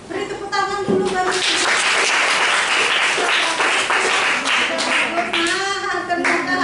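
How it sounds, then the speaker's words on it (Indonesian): A classroom of students bursts into applause, dense continuous clapping running steadily for several seconds, close and loud, with a few voices and cheers mixed in. "beri tepuk tangan dulu baru"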